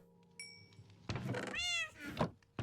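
A cat meows in a modded Minecraft game, one clear rising-and-falling meow amid game thunks and clicks, quiet background and no speech.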